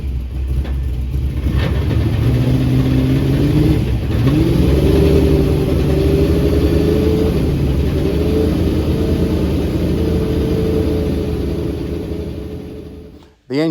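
Ex V8 Supercar race car engine running steadily at close range, a loud deep rumble with rising and settling revs, cutting off abruptly near the end.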